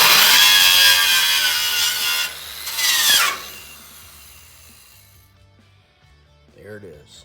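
A power tool grinds away rust around a spot weld on a Ford F-100 truck bed, loud and harsh for about three seconds before winding down; faint voices follow afterward.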